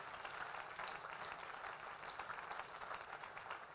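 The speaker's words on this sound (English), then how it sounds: "Oh, clap your hand for this." A church congregation at a conference in Accra, Ghana claps hands together, forming a steady, dense wash of clapping that holds at even loudness throughout with no talk on top.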